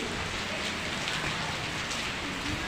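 Heavy rain pours down steadily and evenly, a dense close hiss of drops on surfaces throughout, with no voices.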